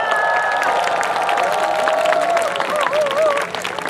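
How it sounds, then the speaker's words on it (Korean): An audience at an outdoor concert at the Baekje Cultural Festival applauds steadily, a dense wash of clapping that carries through to the end, with a faint tonal sound wavering underneath. "박수"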